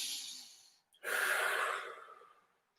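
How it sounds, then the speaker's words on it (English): Two deep breaths during a children's sensory circuit exercise: a long exhale, a brief pause, then a strong inhale-exhale with a snorty edge, close and clear with no talk. "2 deep breaths."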